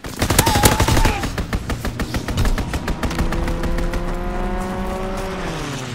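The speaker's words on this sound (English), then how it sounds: "Enemy strafing run, inbound." A WW2 video game battle at Pointe du Hoc, where an enemy aircraft makes a strafing run with rapid machine gun fire and an engine roar sweeping past, loud at first and then fading.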